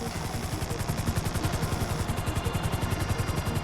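A helicopter hovering in Grand Theft Auto V, its rotor chopping in a steady rapid beat under a loud, dense engine roar that fills the whole clip.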